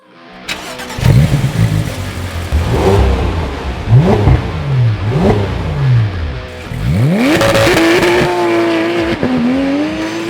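A Porsche 911 GT3 (991) with a naturally aspirated 3.8-litre direct-injection engine starts up and is blipped in several sharp revs, then roars loudly through a long rising acceleration with gear changes, close and dominant.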